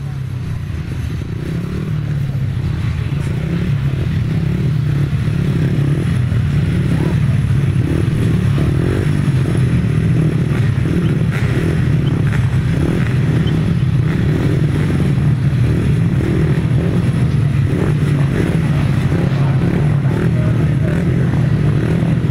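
250cc grasstrack racing motorcycles at the South Midland Grasstrack Championships roar steadily for the whole stretch, loud and close, their engines droning with rough clatter from the track.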